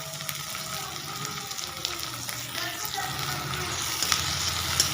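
Finely chopped tomato goes into a hot frying pan with red chilli for an okra bhaji, giving a steady, soft, continuous sizzle and hiss with no talking.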